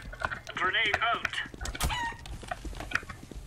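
A chicken clucks and squawks in the shooter Counter-Strike: Global Offensive, a few sharp calls in quick succession up close, amid clicks and muffled game sounds with a voice briefly audible.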